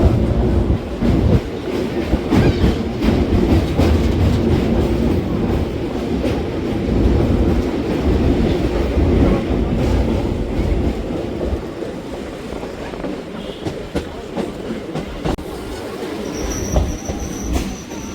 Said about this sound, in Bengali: রানাঘাট ছেড়ে ট্রেন এখন আমাদের এসে পৌঁছেছে হলো কালীনারায়ণপুর জংশনে।